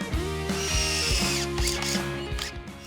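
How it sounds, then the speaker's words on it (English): A power drill drives screws into stacked wood boards, its steady motor whine pulsing as each screw bites, loud and close with no talking. "then we just screw them down"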